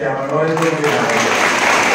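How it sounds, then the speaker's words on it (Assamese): An audience claps for the Prime Minister at an Agniveer pre-recruitment training event for youth: loud, dense applause that builds and holds steady while someone speaks over it. "প্ৰধানমন্ত্ৰীৰ কাৰণে সবে এবাৰ জোৰৰ হাত চাপৰি দিয়ক"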